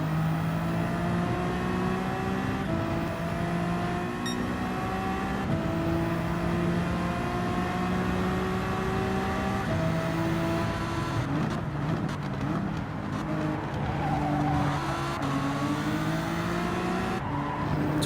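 Race cars lapping Watkins Glen International in Gran Turismo 7, including a Lamborghini and a Lexus: a steady loud engine drone with rising and falling gear pitches, shifts, and tire squeal, continuous and close without talk.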